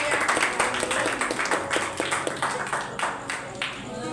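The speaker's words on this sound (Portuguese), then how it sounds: "Aplauso para quem disse 120." A church congregation applauds during a healing and deliverance service, dense steady clapping that fills the room, with a faint voice and tonal sound running underneath.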